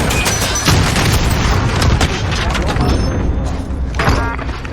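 Vehicle explosion in the video game Call of Duty Warzone: loud booming blasts and rapid gunfire bursts crowd together over a steady dense rumble, heard at close range.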